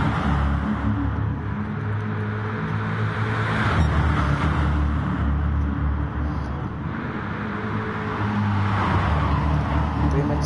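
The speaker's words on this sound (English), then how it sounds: "Revving up the gears then, as you can see, to try and get the most out of it." Race car engines in an N5 Racing sim race on an R8 at Bluemoon, with a continuous loud droning roar that rises and falls as the cars run close together, steady throughout with no break.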